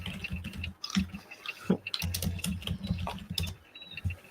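Computer keyboard keys clacking in quick irregular bursts with brief pauses, close and fairly clear, no voices over it.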